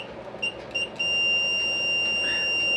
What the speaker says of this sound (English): when you hear that beep, it means the switch is on